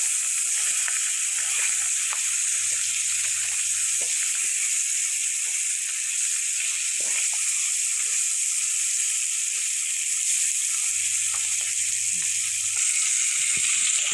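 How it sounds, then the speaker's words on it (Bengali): Pieces of rohu fish fry in hot oil with a loud, steady, dense sizzle and crackle throughout, with a low hum coming and going underneath. "এখন মাছগুলি ভেজে নেব।"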